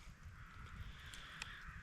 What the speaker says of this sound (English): We don't have crows in the interior of Alaska.